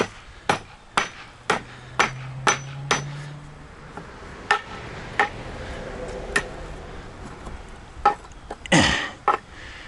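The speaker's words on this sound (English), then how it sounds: "now we'll be able to hammer this piece up." Hammer blows knocking a piece off an old industrial cart: roughly a dozen sharp, ringing metallic strikes at an irregular, unhurried pace, close and loud, with a scraping clatter near the end and quiet shop background between hits.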